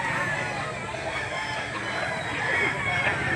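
A rooster crows at a poultry market in Lipa City, Batangas, faint beneath a steady hum of crowd noise and general chatter.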